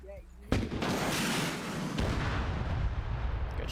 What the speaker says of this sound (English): Smart to fire the Hesh launchers, yeah.